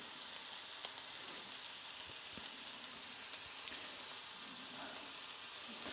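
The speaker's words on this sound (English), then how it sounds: "Sizzling sounds." Meatballs frying in a pan for spaghetti and meatballs, a steady close crackling sizzle with faint pops throughout, no voices over it.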